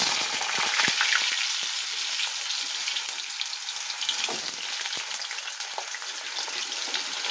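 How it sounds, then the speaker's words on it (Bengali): Potatoes fry in hot oil tempered with cumin seeds, giving a steady, close sizzle that runs the whole way through, with scattered crackles and pops and a few soft scraping stirs. "আলুগুলো অল্প অল্প ভাজা হলে তারপরে মশলাটা দেবো।"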